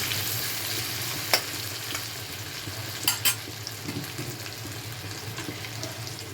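Rohu fish frying in a pan with salt and turmeric: a continuous close sizzle with a few sharp utensil clinks and scrapes, no speech.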